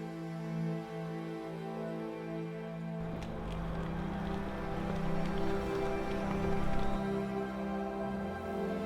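Steady rain pours on an outdoor soccer field at blue hour, a dense even hiss that swells from about three seconds on and continues without pause; no voices.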